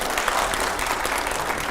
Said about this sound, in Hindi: जोरदार तालियां हो जाए प्लीज एक बार